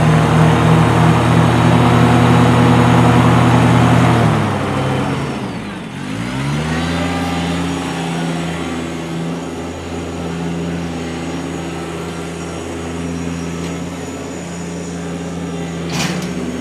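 A 2018 Kubota BX1880 diesel sub-compact tractor runs loud and close with its 48-inch mid mower deck and rear bagger engaged, a dense droning roar whose pitch sweeps down then settles into a steady hum.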